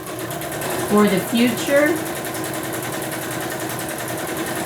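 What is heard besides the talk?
sewing machine stitching a journal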